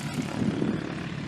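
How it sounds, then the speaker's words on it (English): A helicopter drones in the distance over a mountain plain near a local airport in Missoula, Montana, a steady low whirring rumble that sits at a constant moderate level for the whole moment, with no voices. "a helicopter off in the distance"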